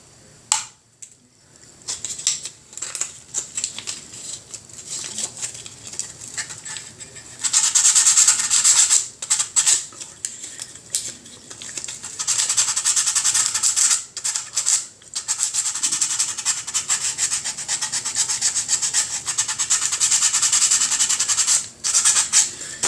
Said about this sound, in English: keep sanding it till it's flush, until the way you like it